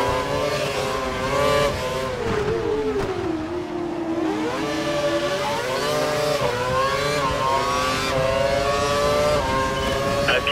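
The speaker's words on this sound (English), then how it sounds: "He's running full revs, maximum power." A race car in a racing video game from a league's European series round, its engine screaming loudly at full revs, the pitch dipping and climbing through gear changes in a continuous, close drone with no talk.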